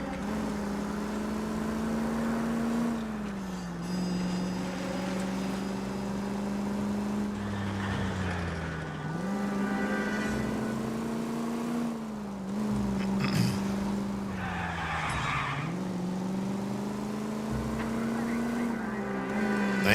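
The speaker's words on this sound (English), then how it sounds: "It's an intense handbrake." Engine drone of a car in L.A. Noire, a 1940s-era video game, revving and dipping repeatedly with brief handbrake skid bursts layered over the steady motor, loud and continuous.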